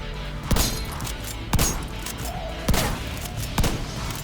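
Four heavy shotgun blasts in The Division 2, spaced roughly a second apart, each a loud booming crack over a constant rumbling game background.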